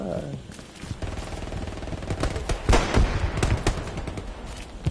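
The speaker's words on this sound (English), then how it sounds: "I'm getting fire. Shots fired at me." Gunfire in the WWII shooter game Hell Let Loose: bursts of machine-gun fire and single rifle shots crackle at varying distances, with a few louder close impacts in the middle, over low battlefield rumble.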